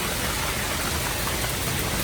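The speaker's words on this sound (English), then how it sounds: "and torrential rainfall." Torrential rainfall from a severe Atlanta, Georgia storm, a steady dense broadband hiss that holds constant and fairly loud with no breaks or voices.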